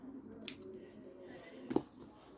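Scissors trim the edge of a paper piece in a mixed media craft project, giving a couple of brief crisp snips close by in a quiet room with faint background hum.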